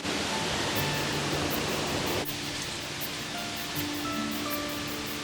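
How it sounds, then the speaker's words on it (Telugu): Dharapalli waterfall in a hill tribal village near Kakinada, its water streaming down into lower areas as a dense, steady rushing roar that drops somewhat in loudness partway through and continues evenly. "జలపాతం నుంచి వచ్చే వాటర్ ఇక్కడ ఫ్లోటింగ్ అయ్యి ఇలాగ కింద ప్రాంతాలకి ప్రవహిస్తూ ఉంటుందన్నమాట"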